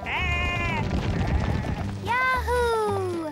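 Sheep bleating in drawn-out wavering cries, two calls separated by a brief pause, loud and close, with low rumbling noise beneath.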